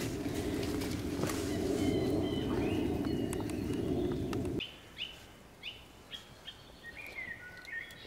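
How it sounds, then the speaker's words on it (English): Short chirping bird calls repeat outdoors after a loud low rumble cuts off, the calls fairly faint and spaced a second or so apart. "Birds have been very noisy."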